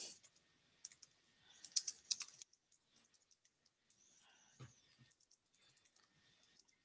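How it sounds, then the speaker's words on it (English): Scattered keystrokes on a computer keyboard tap out faintly in short bursts and single clicks, close but quiet, with gaps of near silence between them during an online algebra lesson. "Sorry, I'm typing so poorly."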